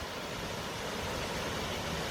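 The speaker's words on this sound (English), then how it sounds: "This is one of my favorite waterfalls." A waterfall in the Trask Unit of Tillamook State Forest roars as a steady, dense broadband rush, even and continuous throughout with no voices.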